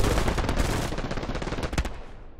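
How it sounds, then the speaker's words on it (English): Dense automatic and rifle gunfire rattles continuously in the WWII shooter game Hell Let Loose on the Utah Beach map, with rapid overlapping bursts and a sharp louder shot near the end before it tapers off. "Sorry, man, I couldn't hear with all that gunfire."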